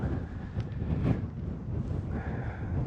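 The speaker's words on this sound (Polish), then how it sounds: "Wiatr wieje." Wind blows steadily at Higger Tor in the Peak District, a low, rumbling gust buffeting the microphone without pause for the whole stretch.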